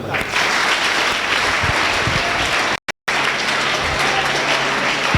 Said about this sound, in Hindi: सब बच्चों के लिए तालियां बजाओ